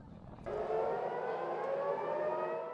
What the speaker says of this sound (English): Air raid sirens sounded across Tel Aviv early Friday